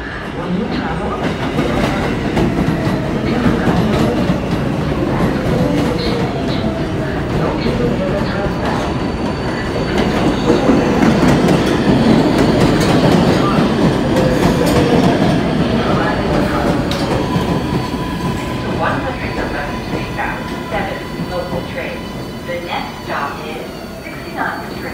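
An R188 subway train on the 7 line, bound for 111 St and Main St, rumbles through Woodside-61 St station with continuous loud rolling, clattering wheels and some squeal. Announcement speech is heard over the noise.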